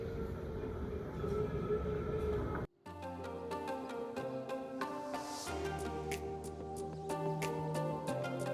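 A rail train rolls past at a moderate distance, fairly faint, with a rumbling wheel drone, rhythmic rail clatter and high tonal squeals, broken by a sudden brief cut partway through.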